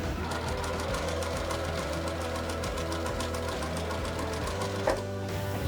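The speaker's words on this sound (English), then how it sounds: "I'm going to sew one of these together to show you what the finished block looks like" A sewing machine runs steadily while stitching quilt block pieces together, a fast even mechanical chatter that holds for the whole stretch close up, with no talking.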